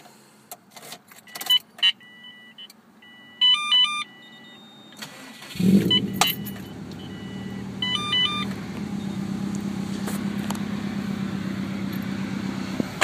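A 2004 Subaru WRX STi with 78,000 miles starts up: several electronic chimes and clicks first, then the starter cranks and the engine catches with a loud rev and settles into a steady idle rumble.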